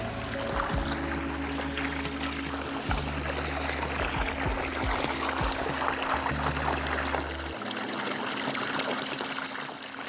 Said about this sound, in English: to switch it from the pool to the waterfall, you want to turn this all the way upright.